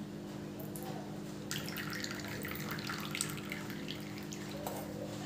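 Boiled betel leaf stalk liquid being strained from a pot into a bowl, a soft, steady pouring and trickling of liquid, faint and close, with a light splash near the end.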